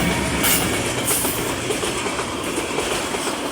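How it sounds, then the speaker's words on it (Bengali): A train passes close by, its railcars rumbling and clicking steadily over the rails with a loud, continuous roar and no talk. "দেখছো আপু, ট্রেন যায়।"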